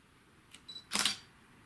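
Smartphone camera shutter sound effect as a photo is taken, a short bright click burst after a couple of faint beeps, fairly quiet and alone in a quiet room.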